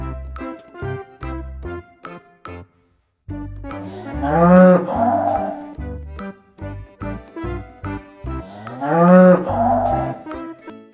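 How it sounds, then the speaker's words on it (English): Two long, low cow moos ring out, each rising and falling, over a bouncy rhythmic musical backing. "This is a cow."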